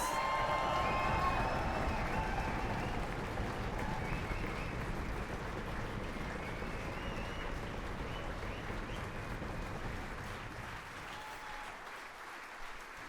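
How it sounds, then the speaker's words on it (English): A conference crowd at a real estate success summit claps and cheers as three guest experts walk out, sustained broad applause that stays strong before thinning slightly toward the end. "Give them a huge round of applause."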